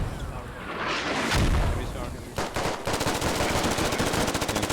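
Gunfire in the military shooter game Squad: a heavy boom and rumble give way to loud, rapid automatic bursts that crackle steadily to the end, with voices underneath.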